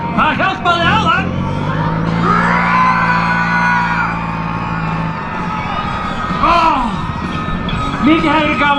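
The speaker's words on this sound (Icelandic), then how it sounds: "Eigum við að prófa að öskra á hann?" Crowd at an outdoor tractor offroad competition in Flúðir, Iceland, yelling, whooping and bellowing together at a driver, a loud sustained roar of many voices with rising shouts near the start and end, over engine rumble.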